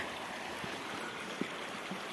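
A stream of water flowing past an old mill, a steady broadband rush carrying on without a break, with a few soft low knocks and gurgles over the top and no voices.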